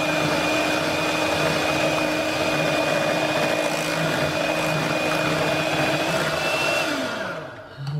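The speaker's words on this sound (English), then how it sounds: "So we'll whisk in the chocolate." An electric whisk or mixer whirs steadily while chocolate is blended into keto cheesecake batter, a loud constant motor drone that holds for several seconds and then winds down at the end, with no talk.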